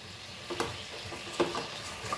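Butter garlic blue crabs, Goan style, cooking covered on a slow fire, a soft steady sizzle with a few faint clicks and taps.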